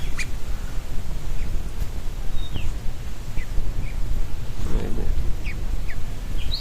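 China ducks in a home garden give scattered, faint quacks and short calls over a low outdoor background hum and rustle.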